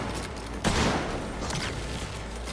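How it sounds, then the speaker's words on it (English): Gunfire and grenade blasts in the video game Cyberpunk 2077 land as a sharp, loud burst followed by a rolling boom and further muffled shots, all within a couple of seconds over a constant background rumble. "Grenades."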